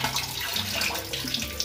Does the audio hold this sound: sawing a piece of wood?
no